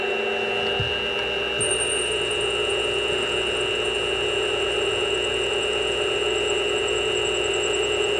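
A drill boring slowly and deeply through material for homemade CNC XY table clamps, a steady loud machine whine with strong constant tonal hum and a higher tone joining after about a second, running continuously throughout.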